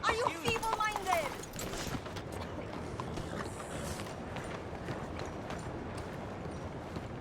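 Horse hooves clip-clopping at a walk in Red Dead Redemption 2, a soft, steady, low rhythm of thuds continuing under brief speech at the start and then on their own.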